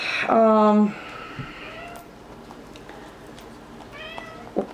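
A pet cat lets out a loud, drawn-out meow close by, then a shorter, fainter meow a few seconds later in a quiet room.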